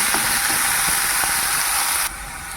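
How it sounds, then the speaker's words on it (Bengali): Steady, loud broadband hiss of vegetables frying in a hot pan, continuous throughout with a slight drop in level near the end; no voices. "এবার ভালো করে ভেজে নেব"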